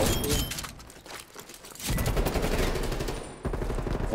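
Rapid automatic M4 rifle fire in a Call of Duty Cold War multiplayer match, dense bursts of loud shots, some steady sustained streams, with brief pauses between volleys.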